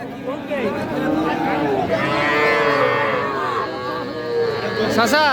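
Cattle and young bull calves low and moo repeatedly at a busy livestock market, loud and near, with overlapping drawn-out calls over crowd chatter and voices.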